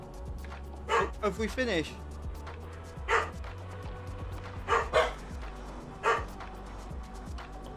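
Dogs bark in short sharp bursts, about five spaced yelps and barks heard moderately close beneath an ongoing farming-simulator game soundscape, with a person speaking over them.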